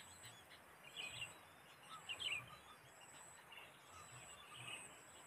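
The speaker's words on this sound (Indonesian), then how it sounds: "Suara burung" Wild birds in the countryside, faint scattered chirps and short calls at a distance over a soft, steady hiss of quiet outdoor ambience.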